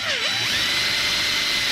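A drill bit spins up and bores into metal, a short, loud whine that rises in pitch and then holds as a steady grinding drone, with no talking.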